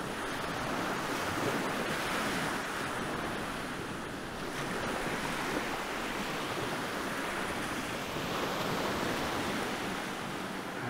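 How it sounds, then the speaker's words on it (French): Ocean waves on Rekawa Beach, Sri Lanka, a turtle nesting shore; continuous broadband surf wash with wind noise, steady and moderately loud, slowly swelling and easing, no voices. "Les vagues y murmurent un chant plus grave, plus profond"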